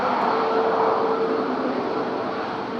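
A Ryanair airplane at Madeira Island Airport gives off a steady, broad jet roar with a faint whine at first, heard from a distance and slowly fading, with no voices.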